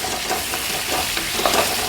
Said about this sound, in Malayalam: ഒരു തക്കാളി ചെറുതായിട്ട് അരിഞ്ഞത് അതും കൂടി ഇട്ട് നല്ലപോലെ ഒന്ന് വഴറ്റി